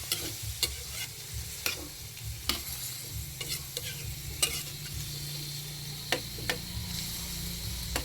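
Squid sautés in a pan with garlic and onion for adobo, a soft steady sizzle punctuated by regular sharp ladle scrapes and taps, close and without talk.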